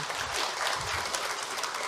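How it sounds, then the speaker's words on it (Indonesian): Audience applause at a Ramadan religious talk, a dense, even burst of many hands clapping at moderate volume, with no speech. "Tepuk tangan buat Bu Yeni."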